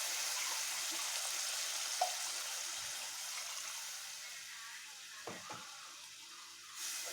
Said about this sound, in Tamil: நான் இப்போ மிக்ஸி அலாசின தண்ணி தான் ஊற்றினேன்